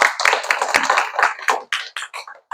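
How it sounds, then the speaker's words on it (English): A classroom group clapping for a fellow student's acting, a short burst of uneven handclaps that thins out into a few scattered final claps. "Let's give his acting skills a round of applause."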